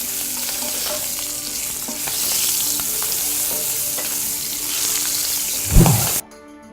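Shrimp pan-searing in a hot pan gives a continuous, bright sizzle with occasional stirring and scraping. A louder clatter comes near the end before the sound cuts off abruptly.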